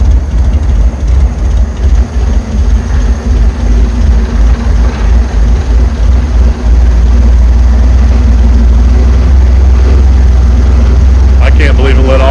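The air-cooled engine of a 1962 Corvair Rampside runs after sitting for decades, a loud, steady, close rumbling idle with faint voices beneath it.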